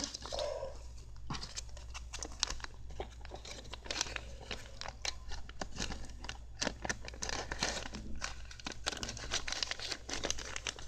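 Plastic zipper bags, some patterned, handled close up as they are unpacked and put away, giving repeated crinkly rustles and crackles throughout with no talk.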